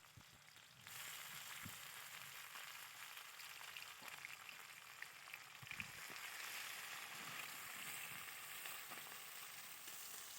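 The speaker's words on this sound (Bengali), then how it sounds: "এবার কুচনো পেঁয়াজটা ভেজে নিতে হবে।" Chopped onion sizzles in hot oil in a pan with whole garam masala, a steady close crackling fry that starts abruptly and continues alone, with occasional stirring clicks.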